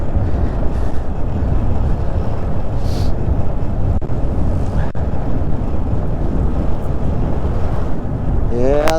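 Steady, loud wind roars across the microphone throughout the ride on a Lectric XP 3.0 e-bike, a dense rumble that buries any other sound.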